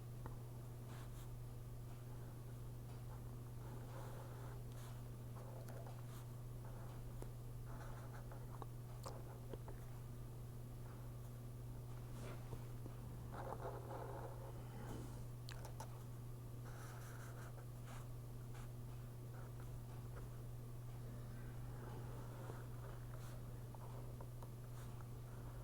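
Hand drawing of an RCC T-beam bridge diagram on paper, a faint steady scratching of pen strokes over a constant low electrical hum, with no voices.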